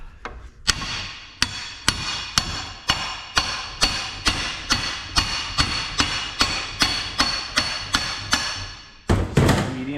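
A hammer strikes a Jeep axle shaft held in a vise to tap out a U-joint bearing, giving about twenty sharp metallic blows at an even pace, close and loud.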